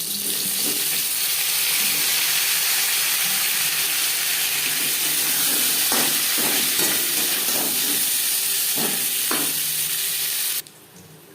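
Potatoes frying in mustard oil in a pan, with a loud, steady sizzle throughout and a few stirring scrapes toward the end before the sizzle drops away abruptly.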